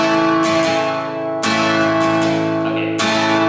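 Acoustic guitar strumming in a steady pattern, ringing chords with sharp strum accents roughly every second and a half, played close and alone for a hymn accompaniment.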